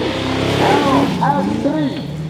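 An off-road vehicle with an LS3 engine revs loudly and close, its pitch sweeping up and down in several surges over continuous rumbling, at an outdoor off-road event.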